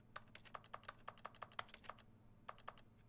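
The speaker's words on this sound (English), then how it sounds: "Why does window have clicky sound?" In The Stanley Parable, interacting with a window gives off quick, irregular keyboard-like typing clicks, a dozen or so faint taps in an uneven rhythm with a short pause near the end.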